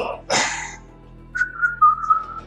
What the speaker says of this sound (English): Ghoul whistles as he switches to sniper rifle mode